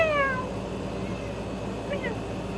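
A cat gives a short, clear meow close by, then a fainter brief meow follows over steady room noise.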